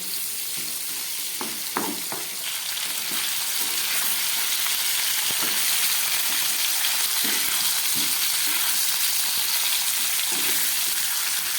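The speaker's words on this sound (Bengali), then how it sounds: "একদম গ্যাস কমিয়ে এই মাছের কাঁটাগুলোকে ভেজে নিচ্ছি" Fish bones frying in oil on low heat, a continuous close crackling sizzle with occasional spoon scrapes and small pops, steady and fairly loud with no talking.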